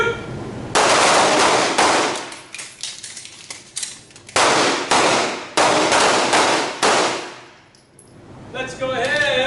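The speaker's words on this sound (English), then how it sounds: "Shoot one, reload, shoot one." Handguns are fired at a night shooting class: several sharp, loud shots ring out in quick sequences, separated by short gaps for reloading, then more shots, with a voice briefly heard near the end.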